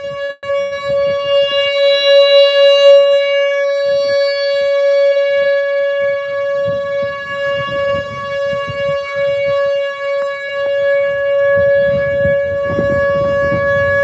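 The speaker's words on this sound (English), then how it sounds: "That's the siren." A civil defense tornado siren wails continuously during a flood and tornado event, a loud steady tone sustained throughout with faint background rumble and noise beneath it.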